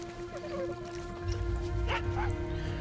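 In Far Cry 6, a dog companion makes short yips and whimpers in the game world. The animal sounds sit over a low game ambience, and a rumble builds midway through.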